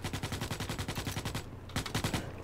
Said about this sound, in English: So I actually like using this pistol.